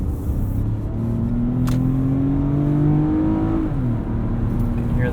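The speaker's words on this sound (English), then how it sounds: "You can hear that V6 sing." Lexus RX 350 V6 in sport mode pulling hard up an entrance ramp, its steady engine drone climbing in pitch with rising revs, then easing at an upshift before building again, close and continuous.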